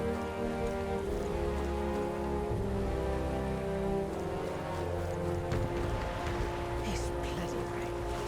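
Steady rain hisses down in the video game Metaphor: ReFantazio, a continuous wash under layered music and a voice speaking.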